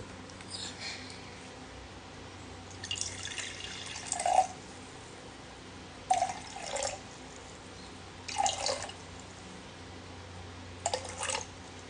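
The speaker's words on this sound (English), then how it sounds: "Yep, 150 grams of water. So I pour that first" About 150 grams of water is poured into a container for soap making, heard as several short, quiet splashing and trickling bursts separated by pauses.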